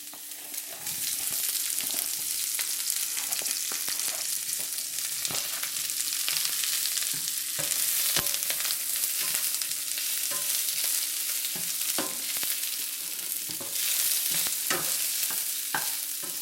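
Onions stir-frying in a wok for fish with chili bean sauce, a steady loud sizzle with scattered sharp scraping clicks of stirring, alone without talk.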